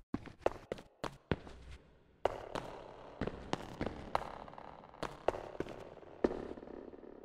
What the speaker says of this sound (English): you can hear that there's quite a bit more reverb being applied to those footsteps